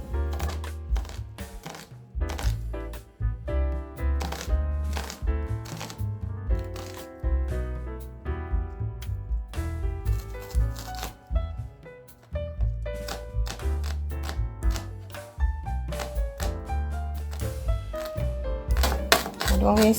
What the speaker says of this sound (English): I'm using a medium to large onion. I'm going to use all of it.